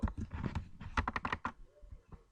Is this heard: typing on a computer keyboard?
yes